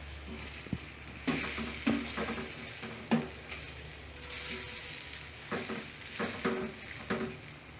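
A spoon scrapes and stirs through a ground coconut mixture added to sautéed ingredients in a pan for egg kuruma, making soft sizzling and irregular scraping knocks over a low steady hum.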